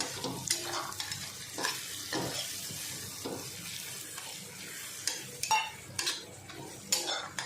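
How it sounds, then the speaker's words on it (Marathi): Green chillies and garlic fry with fresh coriander in an iron pan, a soft steady sizzle broken by repeated scraping strokes and sharp metal clinks of the spatula, close up with no voices. "मिरची आणि लसूण परततानाच कोथिंबीर टाकून घ्यायची"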